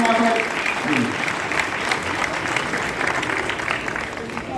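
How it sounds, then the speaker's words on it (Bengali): Audience applause at a Trinamool Congress organisational political meeting, steady dense clapping from a crowd that holds at an even, fairly loud level throughout, with some voices mixed into the noise. "একটু জোরে হাততালি হয়ে আমাদের রাজ্যের সভাপতি মাননীয় রঞ্জিত সরকার"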